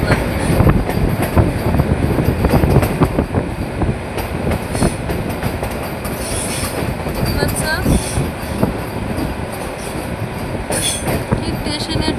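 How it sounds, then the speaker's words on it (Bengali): A train pulls away from a halt and rolls along the rails toward a station, heard from on board: a loud, steady rumble with wheel clatter and occasional squeals, and faint voices in the background. "ট্রেনের সামনেটা একদম দেখতে পাচ্ছি।"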